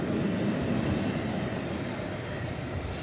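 An Airbus A380 airliner on departure, bound for Heathrow, gives off a steady broadband engine roar at moderate distance, unbroken and without voices.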